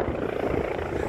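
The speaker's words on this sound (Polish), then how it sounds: "A tam krążą helikoptery." Helicopters circle above a road intersection where ambulances have gathered, and their rotors make a steady throbbing rumble that stays continuous and moderately loud throughout the short stretch.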